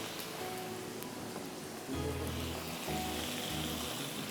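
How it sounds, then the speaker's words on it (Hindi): Masala frying in a pan with a little added water for a chicken dish gives a soft, steady sizzle and hiss, with low clattering bursts as it is stirred. "थोड़ा सा पानी डाल के और इसको मैं भून रही हूँ"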